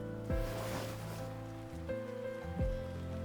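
Rain pours down on a busy night street in the game Love and Deepspace, a steady wash of falling water with low tonal music and deep swelling tones layered beneath it.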